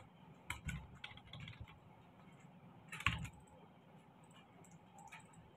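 Keys clack on a computer keyboard while text is entered in Photoshop, with quick uneven bursts of typing and one sharper, louder keystroke partway through, recorded close and fairly quiet.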